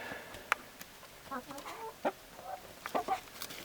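A rooster and hens clucking in a winter backyard coop, with scattered short clucks and calls at irregular intervals, fairly faint and a little distant, with no talk.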